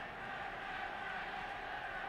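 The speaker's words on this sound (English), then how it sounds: "Home crowd trying to lift their team" Home football crowd in a stadium roaring to lift their team during the FC Zurich versus Liverpool match, a dense, steady wash of massed voices heard from a distance with no break.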